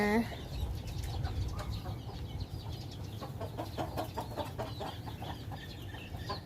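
Busy, steady clucking from a flock of chickens and chicks, with scattered calls over a constant background hum throughout.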